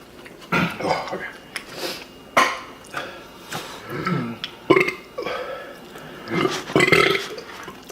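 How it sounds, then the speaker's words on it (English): During a Pizza Hut picnic mukbang, a person forces out loud, throaty burps several times across the stretch, with chewing, mouth sounds and bits of nearby talk in between. "Who's forcing the burp?"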